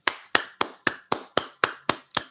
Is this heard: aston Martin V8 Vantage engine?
no